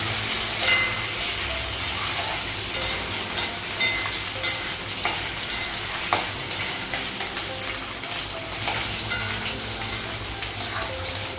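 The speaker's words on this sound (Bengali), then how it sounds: "কচুটাও লাগাবো কচুটা লাগাতে ভেজে দেবো" Loud continuous sizzling of taro frying in a pan, with repeated scraping stirs at irregular intervals and no talk.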